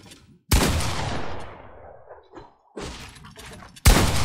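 Gunfire in a Fortnite boxfight: a loud, sharp shot opens with a long decaying tail, followed by a quieter burst and another abrupt close blast at the end, separated by brief near-silent gaps.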